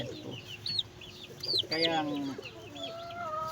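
Chickens raised for breeding cluck and chirp in a farmyard, several birds calling in short bursts close by, with a brief voice over them.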